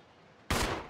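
A single loud gunshot in Resident Evil 0 cracks suddenly after a quiet half second, then decays through a brief echoing tail.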